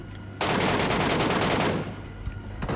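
Dense automatic gunfire from a squad shooter video game, a loud, sustained rattling burst lasting about a second and a half before tapering off, followed by a few scattered shots.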